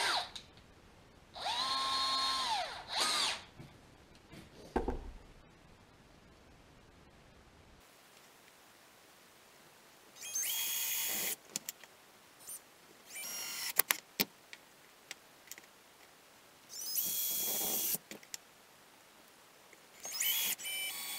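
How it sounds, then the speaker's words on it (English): A power drill bores a hole through the center of a homemade spearing decoy for a bolt, several loud whirring bursts of a few seconds each separated by pauses and handling clicks. "Drill a hole through the center with a drill bit to install a bolt."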